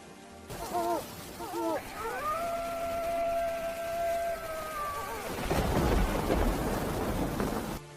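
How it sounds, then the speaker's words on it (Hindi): A horror-story sound effect opens with eerie wavering howl-like wails over a rain wash. Then a loud, rumbling burst of heavy rain and thunder takes over for the final seconds. "बारिश अब अपना और विकराल रूप ले चुकी थी।"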